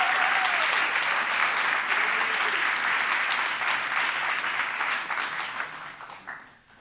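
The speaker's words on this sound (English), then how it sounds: "I think we need a round of applause for all of that." Applause from the audience at a storytelling evening, a full, steady wash of clapping from many people that holds for several seconds, then thins and fades out.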